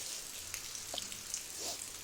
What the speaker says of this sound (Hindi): बहुत ज़ोरों की बारिश पड़ी थी, देखिए बहुत ही बुरे हाल थे झमाझम बारिश